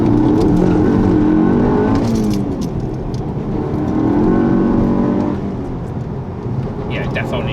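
Car engine breathing through an APR open carbon fiber intake, a loud, steady engine drone with shifting pitch as revs rise and fall, close up, with faint voices underneath.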